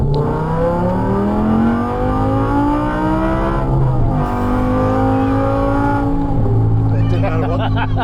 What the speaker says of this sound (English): I bought this car because of this